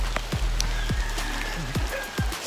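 Steady rain patters on a surface, with occasional heavier drops and a faint background hiss throughout.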